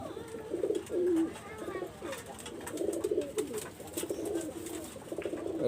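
Adult pigeons of a golden-coloured fancy breed cooing nearby, a few low throaty rolling coos in bursts over a faint background hiss, with no one talking.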